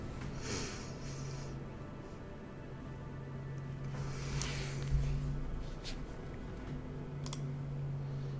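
Typing and clicking on an Aperture computer keyboard during level mapping, a soft, irregular patter of keystrokes and clicks close by under a faint background hum.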